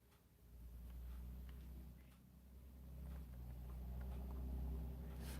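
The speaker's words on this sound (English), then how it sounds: "Did you hear that? That's the American truck." An American truck rumbling past, a low, distant engine roar that swells and holds steady throughout, fairly faint, with no talking over it.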